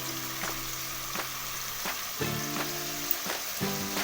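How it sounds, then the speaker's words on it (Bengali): Tomato cooking down in hot oil with turmeric in a pan gives a steady, close sizzle and crackle, broken by several sharp scraping stirs of a spatula against the pan. "ভালো করে তেলের মধ্যে এই টমেটোটাকে কষিয়ে নিতে হবে"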